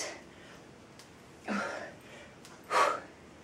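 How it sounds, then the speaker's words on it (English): Heavy, hard breathing from someone mid-workout, with two loud exhales or gasps spaced about a second apart over quieter panting, close to the microphone and without speech. "You hear me breathing hard."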